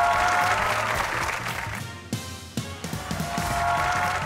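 Studio audience at a comedy show bursts into applause, dense clapping that dips midway and then swells again, with no speech over it.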